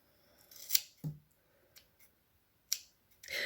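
Scissors snip straight across a length of hair during a home haircut, giving a few sharp, close cuts spaced apart with quiet gaps between them and no talking.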